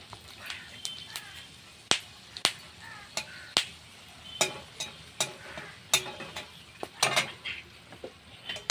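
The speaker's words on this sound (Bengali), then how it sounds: "তেলের মধ্যে একটু শুকনো লঙ্কা একটু তেজপাতা আর একটু গোটা গরম মশলা ফোড়ন দেবো" Dried red chilli, bay leaf and whole garam masala spices hit hot oil, giving sharp, uneven pops and crackles over a soft background sizzle, close and moderately loud.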